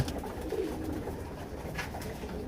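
Pigeons coo at a farm of about ninety birds, soft rolling calls overlapping close by against a low, busy flock murmur with no talk.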